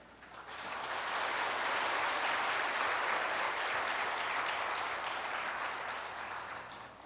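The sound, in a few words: congregation applauding in church service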